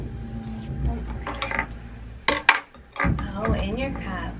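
Cup, plate and spoon set down on a child's Montessori weaning table, light clinks and taps of tableware at close range, interspersed with an adult talking to a toddler.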